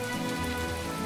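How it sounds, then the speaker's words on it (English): Rain falls steadily in the farming video game My Time At Portia, a dense even patter with no other sounds. "I've never seen it rain before."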